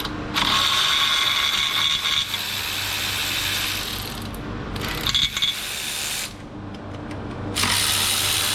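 A ratchet clicks rapidly and loudly in long, close runs, pausing between bursts while removing valve body bolts on a Chevy Cruze transmission; no one speaks.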